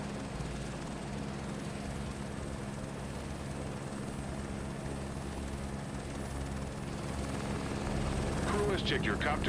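Helicopter in Microsoft Flight Simulator 2024 career mode, working near a helideck and supply ship: a steady rotor and engine drone holds throughout, growing slightly louder near the end, where a voice briefly speaks over it.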